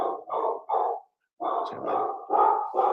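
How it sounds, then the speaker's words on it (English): A dog barking indoors at a knock on the door, a quick series of loud, close barks in two bursts separated by a brief pause, with a single spoken word briefly heard. "my dog is weighing in on this matter"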